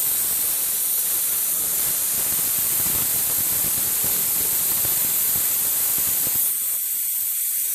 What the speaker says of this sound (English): It's just a Venturi run by air pressure.